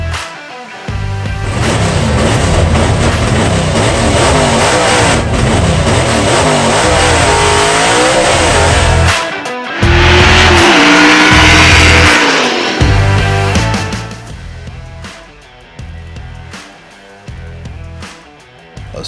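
Moonshiner Josh Owens's drag race car roars loud and close through a six-second run down the strip, engine climbing steadily before backing off, then building again over continuous engine and crowd noise.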